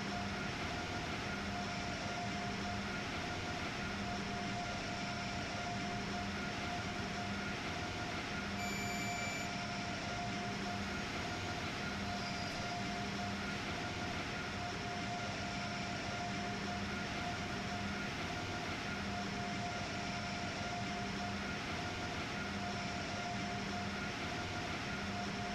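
Train running without overhead wire on a New York route toward Penn Station in the Train Sim World 3 game, a steady continuous rumble of rolling wheels and motor hum holding level throughout with faint tonal whines, no talking.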